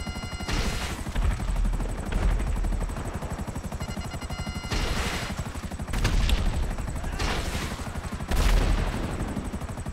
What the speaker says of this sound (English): The fire rate on this helicopter sucks so bad.